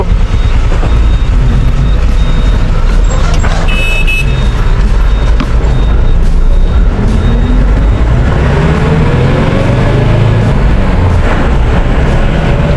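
A Mahindra Furio truck at a Lulu warehouse in Trivandrum is moved and reversed, its loud engine rumbling steadily close by, with faint reversing beeps and brief hisses over the continuous roar.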